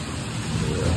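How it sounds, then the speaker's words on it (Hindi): Dense, heavy rain pours down in a steady roar, a thick wash of noise with no voices over it. "बारिश कितनी तेज हो रही है"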